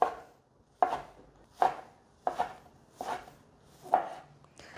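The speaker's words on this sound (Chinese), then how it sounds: "把大豆酥肉球切片" A knife slices soy protein balls on a cutting board, six sharp separate chops at a slightly uneven rhythm, close and clear with quiet gaps between.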